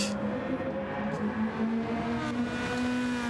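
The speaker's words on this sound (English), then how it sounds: "I can switch to any camera perspective possible and still be able to hear the C4 in the distance." C4 race car in a racing video game at Grand Valley Speedway, its engine a steady, droning hum held at a distance for a few seconds with no talk over it.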